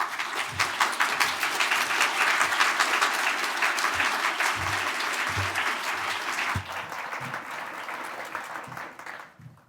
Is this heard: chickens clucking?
no